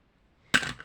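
A single crisp snip of scissors cutting paper for a handmade sketch card, one short, close, fairly sharp cut after near silence.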